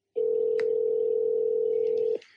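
A steady telephone dial tone drones on alone for about two seconds after a caller hangs up on a prank call, loud and unbroken, with a brief click near the start and a faint tail as it cuts off.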